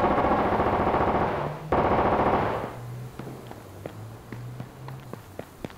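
Scout rifle fire in the H1Z1 video game: a loud, dense burst of gunfire for the first few seconds, then a string of sharp, separate cracks spaced out over a quieter stretch.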